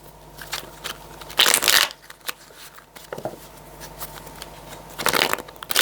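Tarot cards shuffled by hand before a love reading, a soft papery riffle and patter with two louder bursts of rapid flicking, close and intimate against a quiet room, no voices.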